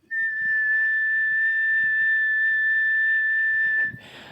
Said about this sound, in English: So if I whistle with a constant frequency